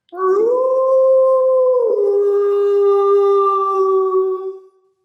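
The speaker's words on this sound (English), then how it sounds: "On cold nights, Dog's friend Jackal calls to him." A jackal howls in a long sustained wail that rises and then settles into a steady tone. It carries for about four seconds before fading, loud and alone, with no talking.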